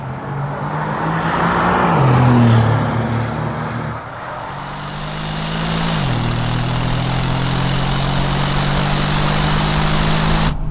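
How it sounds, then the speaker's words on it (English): Deep exhaust note of a 2025 Bentley Continental with V8 hybrid engine, revving up and settling in steady surges that shift pitch, loud and close, with a sharp cut at the end and no talk. "The other thing as well is the exhaust note. It sounds incredible."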